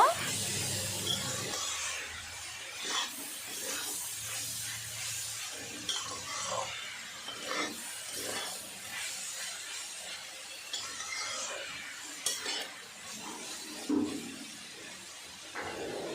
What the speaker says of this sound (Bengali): কাঁচা লঙ্কা সব কিছু ভালো করে মিক্স করে নেব